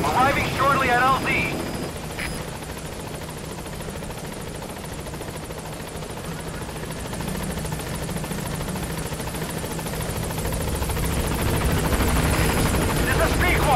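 A support helicopter arrives at a landing zone in Metal Gear Solid V. Its loud, steady rotor drone continues throughout, with a brief radio voice early on.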